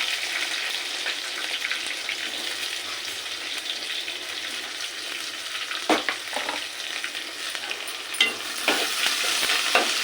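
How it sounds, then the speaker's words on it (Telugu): Onions frying in hot oil in a pan, giving a steady loud sizzle throughout with a few spoon-stirring scrapes near the end and no talking. "ఈ ఉల్లిగడ్డలు బాగా వేగాలి నూనెలో"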